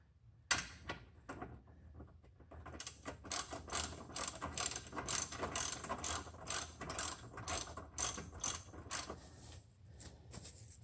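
A ratchet drives 14mm bolts into subframe bushing collars on an Infiniti Q50, giving a fast, even run of close, crisp clicks that keeps on steadily for several seconds.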